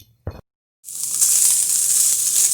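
A brief knock, a short pause, then a steady bright hiss of meat sizzling in a hot pan continues to the end.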